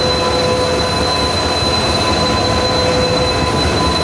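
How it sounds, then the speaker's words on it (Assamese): A freight train passes close and loud on a railway, giving a continuous heavy rumble with steady high-pitched wheel squeal running throughout. "দুই এখন মালবাহী ট্ৰেইন আহি আছে"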